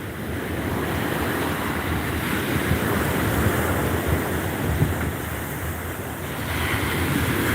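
Atlantic Ocean surf and wind on Hutchinson Island at Fort Pierce, Florida, a loud continuous wash of breaking waves with rumbling wind buffeting the microphone throughout.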